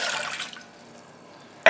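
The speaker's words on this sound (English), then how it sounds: "My pan is ready and I'm going to pour some water." Water poured into a pan while cooking grain-free flax seed tortillas, a short splashing gush that fades out, then a brief sharp burst of liquid at the very end.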